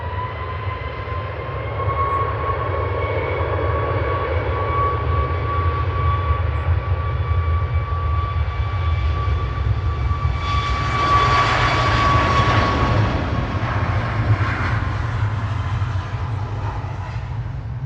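Boeing 737 Max 8 airliner on flight 4052 to Faro at Manchester Airport gives a steady jet engine roar with a whining tone that swells midway, loud and continuous, no voices.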